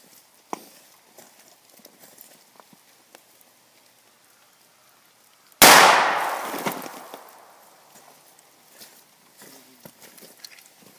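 An unsuppressed .32 auto pistol fires into water jugs: one sharp, loud report with a fading tail breaks an otherwise quiet outdoor stretch.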